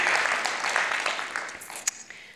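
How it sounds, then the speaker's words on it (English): An audience at a conference talk gives a short round of applause, a brief patter of clapping that thins out after a couple of seconds. "Round of applause."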